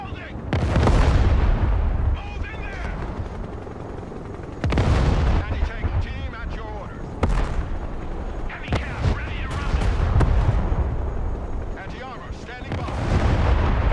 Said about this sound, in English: Rocket artillery standing by.